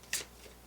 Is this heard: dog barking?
no